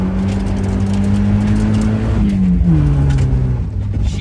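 A black Mazda Miata's engine drones loud and close with a steady revving tone that shifts pitch partway through, a continuous motor note with no talking.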